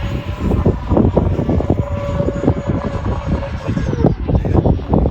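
A Freewing Hornet RC jet makes a knife edge pass, its loud, steady whooshing engine roar holding near the listener across several seconds with fluttering turbulence throughout.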